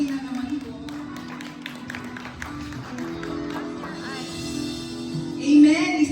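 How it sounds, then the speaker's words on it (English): A church congregation claps in scattered, light applause against a steady low hum, swelling briefly near the end as voices rise. "Can we give another applause to the Lord Jesus Christ?"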